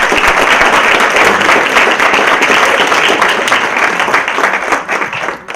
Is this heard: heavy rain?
no